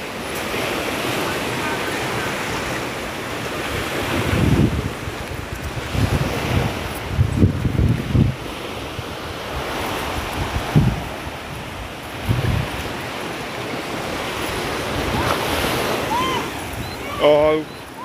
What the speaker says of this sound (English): Here along Hastings Beach.